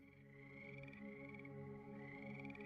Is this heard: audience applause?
no